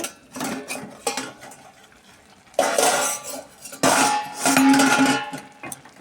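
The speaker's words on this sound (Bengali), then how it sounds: "এবার ঢাকনা খুলে দেখি" In a home kitchen a metal pot lid is lifted and utensils clatter against the cookware. The scrapes and clinks come close and loud in bursts, with a bright ring from the metal and no talking.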